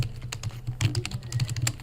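Rapid, uneven clicking of a computer keyboard, close and fairly loud, with bursts of keystrokes over a low steady hum and no voices.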